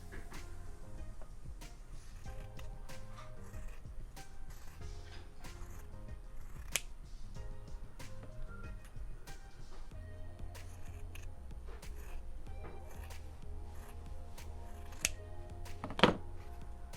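Scissors snip through a sheet of 12-by-12-inch scrapbook paper, soft repeated crisp cuts at a steady pace, quiet and close, with a sharper snip near the end.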